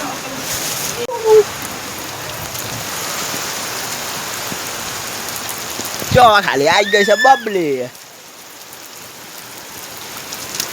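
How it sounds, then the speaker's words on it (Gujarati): Steady heavy rain patters on a surface throughout in Ahmedabad, with a voice speaking over it partway through. "આમ જો ખાલી કેટલો વરસાદ આવ્યો"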